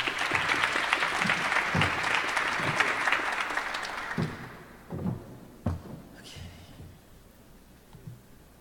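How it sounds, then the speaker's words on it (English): Audience applause at a panel event, a dense wash of clapping for about four seconds that then fades out into scattered claps and a few thumps in the room. "let's give a round of applause for Roel"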